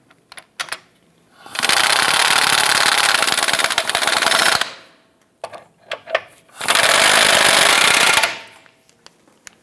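A power tool snugging down subframe cradle bolts on a 2008-2013 Nissan Rogue: two loud, sustained hammering bursts of a few seconds each, separated by short clanks and knocks of the tool.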